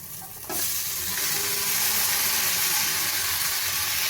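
Cabbage for a prawn cabbage ghonto is tipped into oil and cooked-down ginger spices, bursting into a loud, sustained sizzle that stays steady while it is stirred close by.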